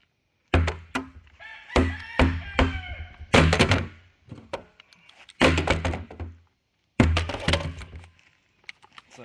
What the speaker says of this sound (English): You need to drop the gun in a barrel.